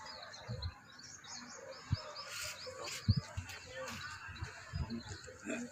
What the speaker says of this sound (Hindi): ये मादा है इसी कबूतर की।